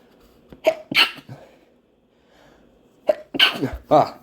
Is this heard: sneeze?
yes